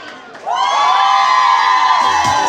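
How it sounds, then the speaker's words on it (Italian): A crowd of women at a wedding party lets out a loud, sustained high-pitched scream of cheering for the bride, a dense shrill roar that rises suddenly and holds before tailing off. "voglio sentire l'urlo delle donne per la sposa"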